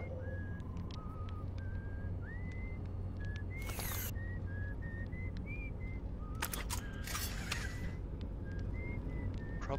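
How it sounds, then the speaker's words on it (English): A character whistles a tune in the video game Outer Wilds, the melody drifting through a series of short notes alongside soft ambient game sounds and occasional clicks, with no talking. "I can hear him whistling anyway"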